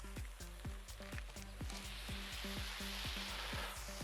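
Smash burger patties topped with cheese slices sizzle steadily in a pan, a constant close hiss under a regular rhythmic low thumping in the background.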